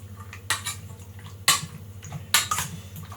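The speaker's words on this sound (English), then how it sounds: "mix it up some more" Utensils scrape and clink against a bowl while pasta salad is stirred, giving irregular clattering knocks over a steady low hum.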